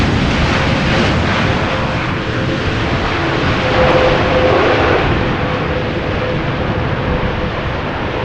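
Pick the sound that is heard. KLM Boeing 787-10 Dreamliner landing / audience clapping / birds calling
KLM Boeing 787-10 Dreamliner landing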